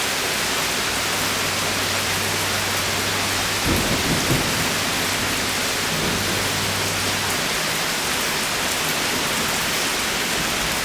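A thunderstorm with steady heavy rain hissing on surfaces, broken by a close rumbling thunderclap partway through and a softer roll shortly after, the downpour continuing without a break.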